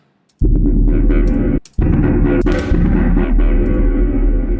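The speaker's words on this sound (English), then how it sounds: "Another big thing I like to do is like reverb throws, especially on breaks like this." A loud distorted synth bass chord in a UK bass track plays, cuts out briefly, then returns as a lingering reverberant wash from a reverb throw trailing across the break.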